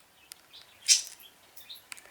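Pet birds sharing one cage give a few short, bright chirps and tweets, close by and scattered across a quiet moment, with one louder call standing out in the middle.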